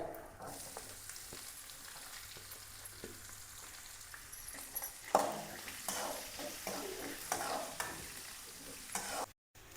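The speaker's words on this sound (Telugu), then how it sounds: "ఇది కొంచెం వేగాలి వేగిపోయినాయి ఒక ఐదారు పచ్చిమిర్చి ఒక ఉల్లిపాయ" Green chillies and onion fry in hot oil with mustard seeds and peanuts, giving a soft continuous sizzle with spatula scrapes that grow busier partway through; close and fairly quiet, no speech.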